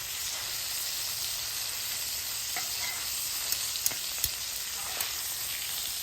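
Country fried chicken sizzles in grease on a flat griddle, a steady close hiss of frying with a few faint clicks and pops scattered through, no voices.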